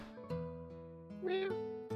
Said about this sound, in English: there's a cat stuck in the well down here